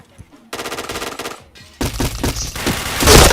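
Rapid bursts of automatic gunfire from a shooter video game, loud and dense, pausing briefly before a heavier barrage with overlapping shots and effects that swells toward the end.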